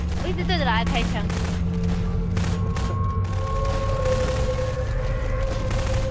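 Rapid bursts of gunfire in the video game Garry's Mod, a dense, loud volley running throughout under a steady game hum.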